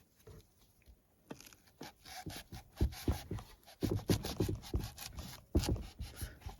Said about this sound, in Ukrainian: Радянський абразивний канат відрізаю шматочок, десь 20 мм точно буде.